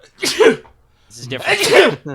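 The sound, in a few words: sneeze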